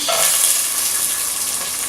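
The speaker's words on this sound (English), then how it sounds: "It's a good indicator when you throw your food into your pan and it sizzles." Onion hits a hot pan and sizzles loudly and steadily, a dense close hiss of frying for vegan lasagna with no talk over it.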